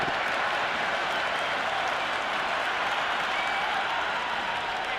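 Crowd in the Cricket 26 video game, a dense wall of cheering and applause that holds steady and loud throughout, with no break or lull.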